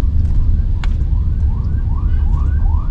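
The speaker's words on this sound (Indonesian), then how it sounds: "Ambulansnya Innova dong, ribut." A Toyota Innova ambulance siren wails in repeated rising sweeps on a road in West Sumatra, heard from inside a moving car over a loud, constant low engine and road rumble.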